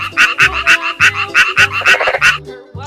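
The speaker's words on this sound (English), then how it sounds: "frog," A frog croaks in a rapid rhythmic series of loud, close, pulsing calls, about a dozen in under three seconds, with no other sound.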